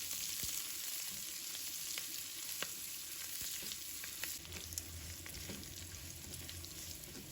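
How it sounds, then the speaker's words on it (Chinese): Pork belly stir-fried with ginger and garlic in a wok gives a steady, close sizzle with scattered scrapes and clicks of the spatula throughout, and no one talks. "把五花肉都炒上色了，再把姜、蒜也加进来，继续翻炒均匀"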